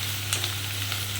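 Steady sizzle of spices, cashews and raisins frying in a pan for a chicken dak bungalow curry, a close, even crackle with a low hum beneath.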